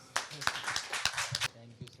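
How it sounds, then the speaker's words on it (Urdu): Scattered hand claps from a poetry mushaira audience sound as an irregular burst of sharp claps, moderately near, thinning out toward the end, with some murmured talk underneath. "بھرپور تالیوں میں"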